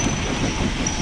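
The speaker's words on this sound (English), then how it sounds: "we reverse backwards, pushing the empty wagons round Boothstown Curve to Astley Green 2 miles away" A Walkden railway engine reverses, pushing empty wagons round Boothstown Curve toward Astley Green, giving a continuous low rumble of rolling wheels with a faint high steady whine above it.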